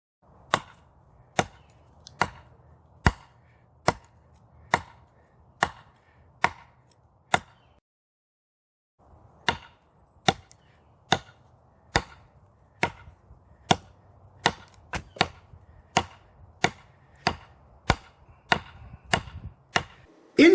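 Ka-Bar knives chopping into a fir branch outdoors, about two dozen evenly spaced sharp chops with a brief pause partway, close and clear with no talk.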